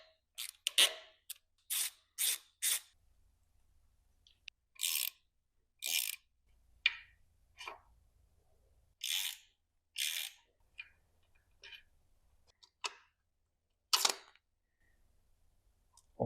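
Small metal clicks and scrapes as pins and two screws are pulled from the timing chain tensioner of a BMW X5 diesel engine, a series of faint, sharp, irregular ticks with quiet gaps between them.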